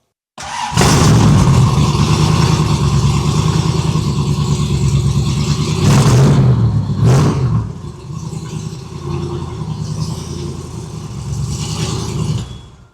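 A muscle car with a 347 stroker engine and T5 transmission fires up and runs loud and close, its deep rumble rising in a couple of sharp revs before settling into a steady, throaty idle with no talking.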